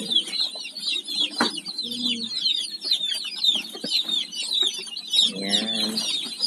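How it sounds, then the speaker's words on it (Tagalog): New baby chicks peeping in a rapid, high, overlapping chorus, close and continuous, with a couple of lower clucks from a hen mixed in. "aking bagong sisiw."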